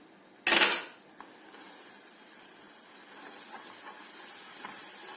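Butter and flour sizzle in a pan for béchamel: a sharp clatter of utensil against pan opens, then a steady hiss of toasting settles in and holds at a fairly even level.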